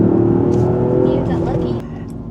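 A car accelerates on the Fuji Speedway track in Japan during a track day, its engine droning loud and steady from inside the cabin, easing off slightly partway through.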